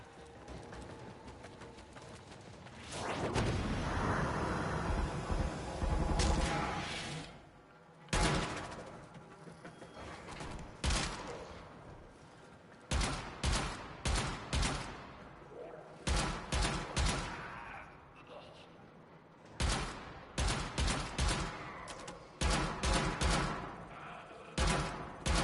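Video game gunfire rings out as rapid bursts of shots, first a sustained volley and then many short separated bursts, loud and close.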